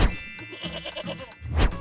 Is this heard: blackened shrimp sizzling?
no